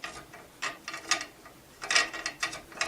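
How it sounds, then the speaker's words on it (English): Short bursts of ratcheting mechanical clicks as a 3D printer lead screw turns through a brass nut to raise the bed, quiet and close, coming in uneven spurts. "Next we'll take our lead screw, thread it through the brass nut, and just raise the bed high enough"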